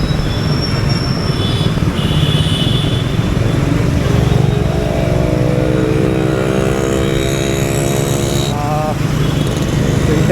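A vintage Yamaha RX 100 motorcycle engine gives a loud, steady drone throughout, with a rising whine as it accelerates near the end; faint voices may sit underneath.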